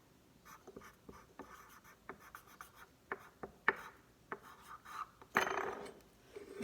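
A pen writes on paper close up, with soft scratching strokes in short irregular bursts and a longer rubbing scrawl near the end. The room is otherwise quiet.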